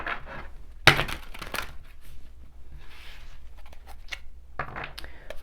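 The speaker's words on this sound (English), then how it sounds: "Let's do some shuffling and jump right to the tarot and see what we get for this" Tarot cards are shuffled close by in a quiet room, with soft riffles and rustles and one sharp slap near the start, and no talking.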